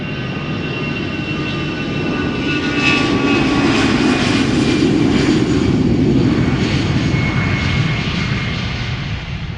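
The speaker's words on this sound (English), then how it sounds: "A320 outbound Manchester." A twelve-year-old easyJet Airbus A320 jet departs Schiphol in parallel-runway operations, a loud, steady engine roar that swells slightly through the middle and holds with no talk over it.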